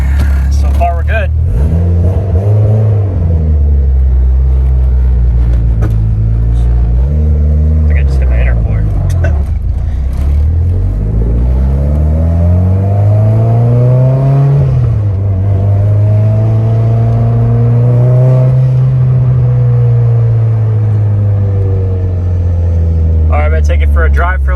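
Car driven on a test drive after repair, engine droning loudly throughout with repeated rising and falling revs as it accelerates and shifts, rumbling close and continuous.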